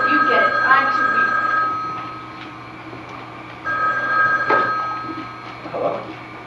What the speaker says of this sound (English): You don't suppose we should get the phone?